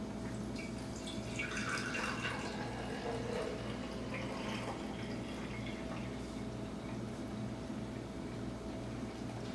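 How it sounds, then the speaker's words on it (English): Homemade sauerkraut juice pours through a strainer to take off the foam, a soft, faint trickling and dripping of liquid that goes on steadily without talk. "So we're going to pour this through to get that foam off."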